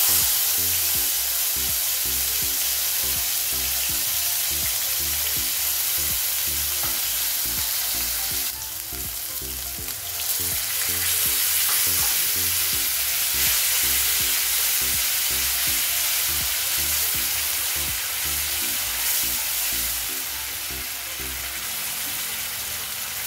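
Masala frying in oil for a restaurant-style paneer matar curry, a steady close sizzle and crackle with stirring scrapes throughout, briefly rising louder midway.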